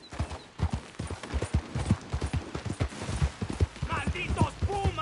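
Horse hooves gallop in a rapid, steady clip-clop rhythm in Red Dead Redemption 2, set in 1899, loud and close, with a voice and a horse's whinny briefly over the top.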